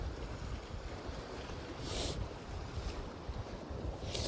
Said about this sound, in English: It's like a southerly wind just blasting in